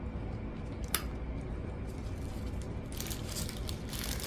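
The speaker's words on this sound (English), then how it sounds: "So I had to get new scissors to cut my piping bag, you know, the tips" Scissors snip through the tips of piping bags, giving a couple of sharp, close cuts with a crisp crunch against a quiet background.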